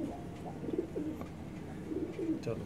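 A breeder pigeon coos in soft, low, repeated phrases, close by, with a faint hum of background noise.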